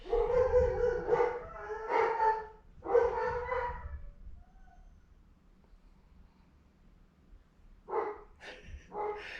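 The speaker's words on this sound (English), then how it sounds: "The dogs are barking." Several dogs bark and howl nearby in drawn-out, wavering bursts, a loud cluster of calls, a pause, then another short round of howling.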